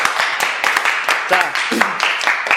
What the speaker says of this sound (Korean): 제가 그래서 박수 한번 치고 시작할까요?